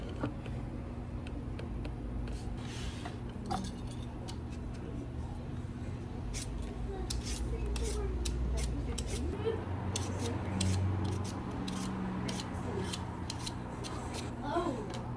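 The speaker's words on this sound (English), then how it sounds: "I have my potato peeler, and I'm gonna peel them" A handheld potato peeler shaves raw potatoes for dinner in a home kitchen, giving short, crisp scraping strokes in a steady, irregular rhythm, close and moderately loud over a low background hum.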